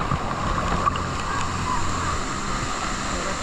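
Water from a waterfall pool washing against a submerged GoPro, a muffled rushing and sloshing wash with low rumble, steady and close to the camera.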